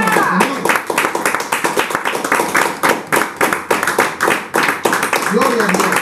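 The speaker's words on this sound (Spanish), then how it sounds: "Le regalo una ofrenda de palmas al Señor." A church congregation claps as an offering of praise, with loud, rhythmic clapping in quick beats close by, joined by voices calling out and singing over the hands.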